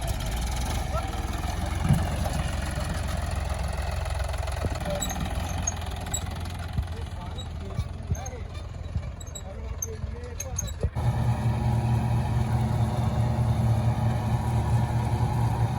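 A John Deere 5210 tractor pulling an 8 ft super seeder runs with a steady diesel drone close by. The engine tone shifts partway through, and a person talks over the continuous hum.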